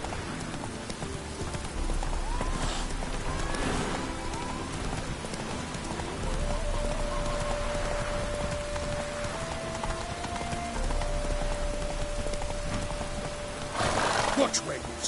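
Roach, the horse in The Witcher 3, clip-clops along steadily with hooves under a rainy ambience, a brief neigh and a sharp burst near the end.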